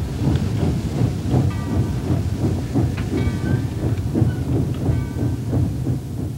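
Baldwin 2-8-0 locomotive No. 76 pulls a train on the Gettysburg Railroad, a loud, steady rumble with rhythmic clanking and clicking from the wheels over the rails, close by.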